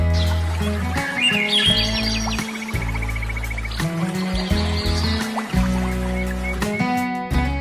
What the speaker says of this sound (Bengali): গাছের উপর পাখির ডাক এবং ছোট ছোট ঝর্ণার কলদনি তাকে মুগ্ধ করেছিল